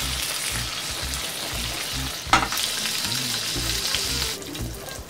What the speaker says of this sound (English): I'm going to add about 2 teaspoons of olive oil and just throw in these 2 pieces of thinly cut pancetta